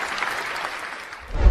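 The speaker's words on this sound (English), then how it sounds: "I can actually give you a massive round of applause here" A short applause sound effect plays, a steady wash of many hands clapping at moderate level for under two seconds, ending in a low thump.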